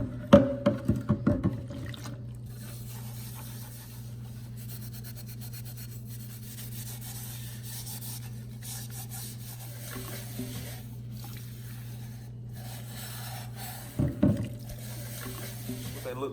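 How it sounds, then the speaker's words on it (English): Exhaust tips get scrubbed in a sink with a Scotch-Brite pad and Dawn dish soap, giving a steady rubbing scour with bursts of louder scrubbing at the start and again near the end. "I'm gonna wash these in the sink with a Scotch-Brite pad and some Dawn dish soap"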